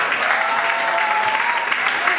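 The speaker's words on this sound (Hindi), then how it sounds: "तालियां तो अब चाहिए दोस्तों।" A poetry reading audience claps together in a steady, dense burst of applause that fills the room, loud and close throughout with no speech on top.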